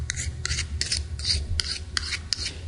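A file rasps back and forth across a rusty tool edge while sharpening it, giving steady repeated strokes at an even rhythm, close and fairly loud, with no talking.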